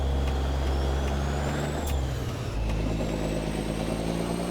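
Peterbilt 352 cabover truck engine in American Truck Simulator, a loud, low diesel drone that dips briefly as a gear changes, with an air-brake hiss and then a rising whine as it pulls away.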